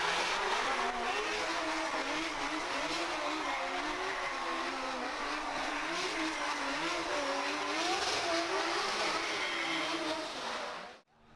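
Drift cars at a Formula Drift street round in Long Beach drone with sustained, wavering engine revs and tire noise, loud and continuous with a dense crowd-like wash before cutting off abruptly at the end.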